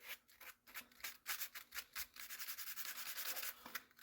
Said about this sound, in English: I'm just going to kind of do a light sand here.